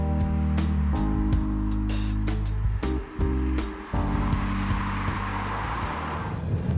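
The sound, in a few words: Peugeot 308 car driving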